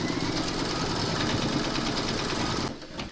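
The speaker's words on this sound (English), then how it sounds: "We're now going to pop our hoop into our machine and stitch round number 10" An embroidery sewing machine stitches fabric to a hoop, a steady loud mechanical whir and rapid needle chatter running continuously before it stops abruptly near the end.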